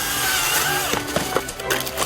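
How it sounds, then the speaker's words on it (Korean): Chainsaw cutting a dead tree into small pieces on a national park mountain trail, a loud continuous buzzing rasp close by with rhythmic surges as the chain bites into the wood. "고사목은 들고 옮길 수가 없어 전기톱을 이용해 잘게 잘라줍니다"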